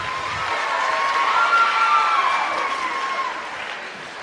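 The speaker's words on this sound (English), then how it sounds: "Give these guys a round of applause as they come up." A crowd at a motivational talk cheers and claps as volunteers walk up onto the stage, a bright, fairly loud wash of applause with shouts that swells mid-way and fades over about four seconds.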